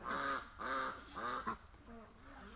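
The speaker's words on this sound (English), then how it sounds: "The ducks following her all around." Ducks quack in a quick series of loud, nasal calls near a boat outdoors, about five in all, with brief gaps between them and no talking.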